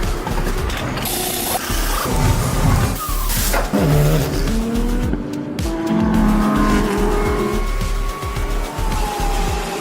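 GT3 race cars run side by side through a corner during qualifying for the Michelin 6 Hours at Abu Dhabi, with a loud, continuous blend of engine roar and tire squeal.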